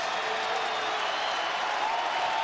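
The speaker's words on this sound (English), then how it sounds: "Crowd trying to urge this volunteer defense on." Stadium crowd at a 2002 college football game between Tennessee and Miami, roaring steadily to urge the Volunteer defense on: a dense, sustained wall of distant cheering and noise with no break.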